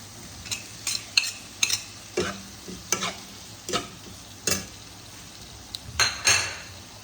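Paneer cubes being stirred into cooked spiced masala in a pan, with a low sizzle under a dozen or so sharp, irregular spoon scrapes and clinks against the metal, close and clear with no talking.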